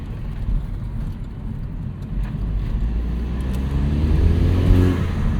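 A 2009 Chevrolet Cobalt SS turbo compact with a K&N Typhoon cold air intake, its engine rising in a steady rev as the car accelerates on a highway, heard from inside with a broad low drone building toward the end.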